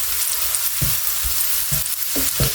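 Food sizzles steadily in hot oil in a pan alongside bacon, frying for a breakfast of migas, with a continuous crackle and a few soft clunks of stirring.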